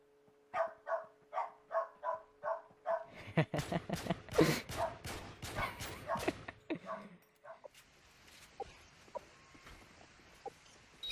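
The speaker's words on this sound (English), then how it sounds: "Dog is barking." A dog barks in a steady run of about eight loud, close barks, then a denser flurry of barking and yelping mixed with other noise, fading into quieter background sound.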